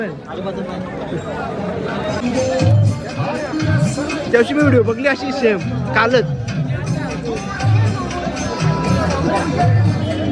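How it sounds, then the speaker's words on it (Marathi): Dense crowd hubbub fills a huge bull market in Maharashtra, steady overlapping chatter near and far with occasional louder voices, nearby people talking throughout. "बाजारात गर्दी बघू शकता आपण."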